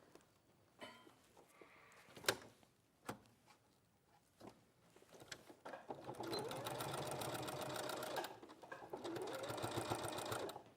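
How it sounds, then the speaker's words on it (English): Brother sewing machine stitching a dart on a toy's leg, a few clicks and handling knocks first, then a steady, fast mechanical whirr with a brief pause before stitching resumes, close and prominent. "So sew until you've caught all the leg and then taper the top of the dart."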